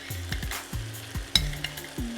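Shrimp, mushrooms and sausage sizzle in a hot pan while a spoon stirs them, giving a repeated scraping clatter about every half second over a steady frying hiss.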